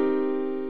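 One sustained minor seventh chord is struck and held, mellow and steady, gently decaying over a brief moment with nothing else playing.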